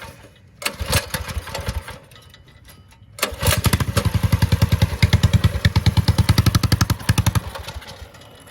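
A cold motorcycle engine out of winter storage cranks with a couple of short bursts, then catches and runs in a rapid, loud, pulsing chug for several seconds before settling, close by and with no talking.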